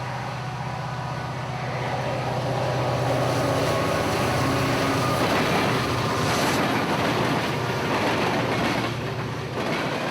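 CSX freight train Q453 rolling past with an SD60I and a leased SD40-2 at the head, a loud continuous rumble of engines and wheels, with rising rattles and clatter as the cars go by close.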